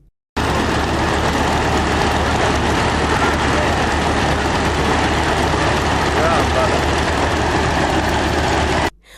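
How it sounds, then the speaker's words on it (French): A homemade helicopter's engine idles before takeoff in Ouagadougou, Burkina Faso: a steady, loud, droning rumble that runs unbroken for several seconds and then cuts off. "En attendant son décollage, le moteur tourne."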